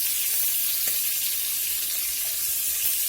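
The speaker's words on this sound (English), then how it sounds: "we got our beef browned off here pretty good" Beef chunks sizzle and fry in a pot for birria, a steady loud crackling hiss filling the space without pause, with a few faint clinks and no voices.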